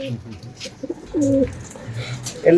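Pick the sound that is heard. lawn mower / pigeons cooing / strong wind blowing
pigeons cooing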